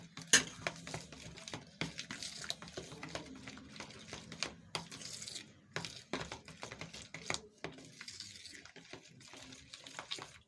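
A spoon clinks and scrapes quietly inside a bowl while spices such as chilli, cumin, salt and red chilli powder are mixed for an omelette sandwich, giving faint irregular taps and stirring sounds.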